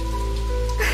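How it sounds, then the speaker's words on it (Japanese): Rain falls steadily in a visual novel game, a dense, even patter that fills the whole moment at close range. "降り注ぐ雨"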